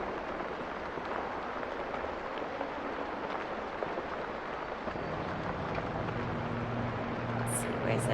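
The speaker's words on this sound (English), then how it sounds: "The rain is so loud." Heavy rain falls in a steady, even patter throughout. A faint low hum joins toward the end.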